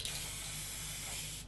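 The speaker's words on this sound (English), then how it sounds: "when you finish your spray paint, turn it upside down," A spray paint can held upside down and sprayed to clear its nozzle gives a loud, steady, close hiss that runs unbroken for the whole moment and cuts off at the end.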